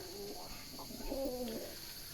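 Tumbler pigeon cooing softly, a few low throaty coos over a steady faint background hum.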